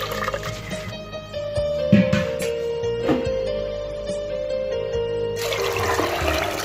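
Water is poured into a cooking pot along with salt during home meal preparation, a close steady rushing stream that starts near the end over faint background music.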